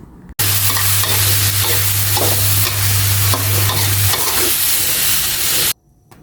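Sizzling and clattering of sunflower sprouts, minced pork and fresh shiitake mushrooms stir-fried in rice bran oil in a hot pan, loud and close, with a steady hiss and irregular scraping throughout.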